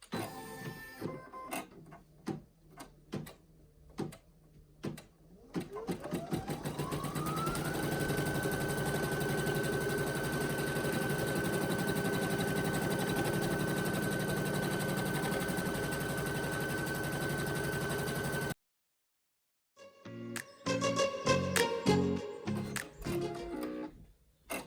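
A Brother embroidery machine, an NQ1700e or PE800, stitches a placement line in red thread on red vinyl, with a steady mechanical whir and rapid needle chatter held for about ten seconds, then a stop and some handling clicks.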